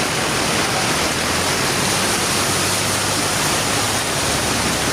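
Water gushes continuously up from a clogged street drain during flooding, a loud, steady broadband roar with no pauses, close to the listener.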